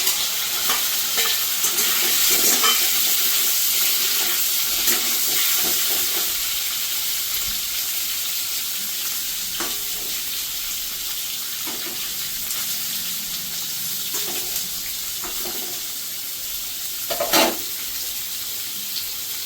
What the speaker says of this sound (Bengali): পনিরটাকে আমি ভেজে নেব